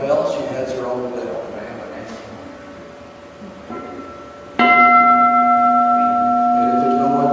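A Japanese temple bell rings out, struck on its rim with a mallet inside a Buddha hall; one sudden loud strike leaves a long sustained ringing tone after earlier talk.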